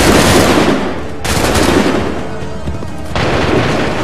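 Musket volleys crash in dense, roaring bursts in Assassin's Creed 3, loud and continuous, broken by brief lulls before the next massed round of fire.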